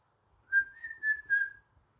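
A person whistles a short rising-and-falling series of three or four quick notes, imitating a dolphin's whistle, close and clear with nothing else underneath.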